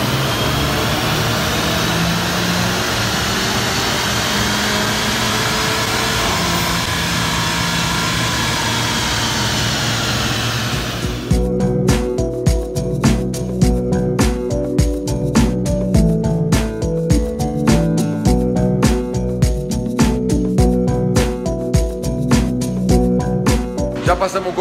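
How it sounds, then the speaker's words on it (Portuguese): A late-model stock Volkswagen Golf GTI roars on a dynamometer, a sustained loud engine run giving way to a rapidly pulsing, stuttering rhythm as it pulls, with no speech over it. "bora pro dinamômetro, vamos ver quanto vai dar."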